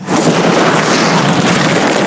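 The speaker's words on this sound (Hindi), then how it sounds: "वो धमाका टैंक वाले से बहुत बड़ा होगा।" A large explosion blowing up a container, a sustained loud broadband roar that starts abruptly and holds steady for about two seconds with no voices.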